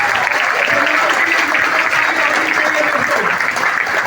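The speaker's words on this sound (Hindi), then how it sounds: "इनके लिए जोरदार तालियां" An audience at a marketing company event claps for a candidate, a continuous wash of applause with a voice talking over it.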